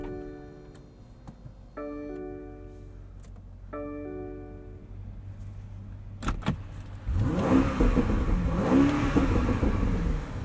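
A 2021 BMW Alpina XB7 SUV chimes and ticks through its start sequence inside the cabin, then the engine cranks, catches and revs several times with rising and falling surges.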